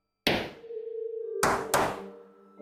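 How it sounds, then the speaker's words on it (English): A few sharp knocks on a hard surface, one then two more in quick succession, each ringing briefly with a faint metallic resonance. "At first, he gently tapped it against the door."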